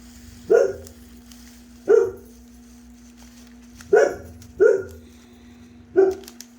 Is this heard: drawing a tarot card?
no